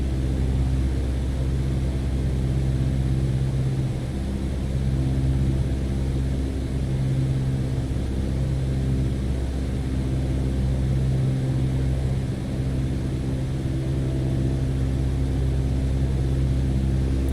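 Steady airplane engine drone in Microsoft Flight Simulator 2020, a continuous loud propeller hum with an even tone that holds unbroken for the whole stretch, with no talking.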